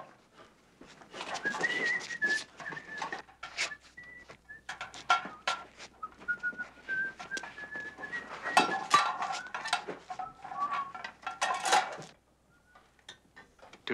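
A man whistles a wandering tune of sustained and sliding notes, close and moderately loud, over a busy bed of clattering and clicking metallic knocks that stops abruptly before a quiet finish.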